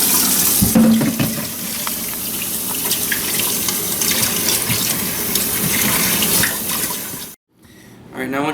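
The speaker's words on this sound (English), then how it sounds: "Now what I always do is I rinse them off first." Tap water running steadily over freshwater fish fillets in a sink, a loud close continuous splashing rush that cuts off abruptly near the end before the flow returns.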